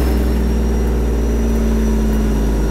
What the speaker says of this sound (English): God, I love the sound of Jake's, like real Jake brakes.